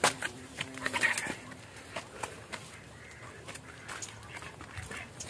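Ducks quack quietly and intermittently around a duck coop on a farm, with scattered soft rustles and knocks between calls.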